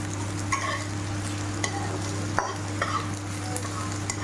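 Ginger and garlic paste cooks in a curry, giving a soft, steady sizzle broken by a few clear spoon scrapes against the pan, over a constant low electrical hum and with no voices.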